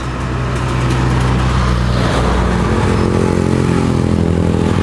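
Loud, steady engine rumble of motorcycles passing close by on a road in the Philippines, with clattering traffic noise and no talking.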